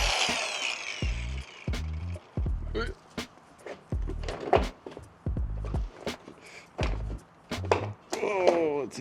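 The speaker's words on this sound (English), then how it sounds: "Gotta get rid of these screws here." A power drill backs screws out of a camper roof in short repeated bursts, each whirring spin stopping and starting with scraping and handling noises between, close and clear.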